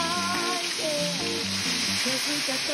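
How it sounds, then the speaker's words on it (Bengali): Ginger, onion and garlic paste frying in hot oil for a Bengali dahi katla fish curry makes a continuous close sizzle, with a faint melodic tune running underneath. "এবারে আমি এটার মধ্যে দিয়ে দেবো বেটে রাখা আদা, পেঁয়াজ, রসুন বাটা।"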